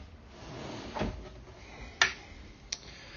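A top-of-the-range soft-close wardrobe drawer slides shut with a quiet rolling rush, then a soft click and a second light tap as it settles, faint and close in a quiet room.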